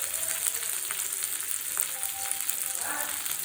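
Curry leaves hit hot oil for a vada pav filling and set off a steady, crackling sizzle with a few sharper pops, close and even throughout, with no voices.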